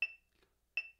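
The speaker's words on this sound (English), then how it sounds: "I'm going to reset it to 80 clicks per minute." A metronome set to 80 beats per minute gives two crisp, bright clicks about three-quarters of a second apart, close and isolated against silence.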